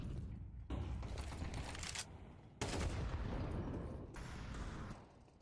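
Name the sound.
gunfire in Counter-Strike video game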